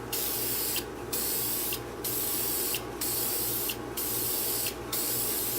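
Short bursts of aerosol spray coating a 3D printer bed, five evenly spaced hisses about a second apart, close and fairly loud over a steady low machine hum.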